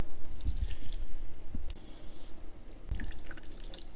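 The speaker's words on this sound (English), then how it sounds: "put it between a couple of hands, and we're just gonna squeeze" Salted, shredded iceberg cabbage is squeezed by hand to press out excess liquid, giving soft wet squelches and drips close by in a few short squeezes.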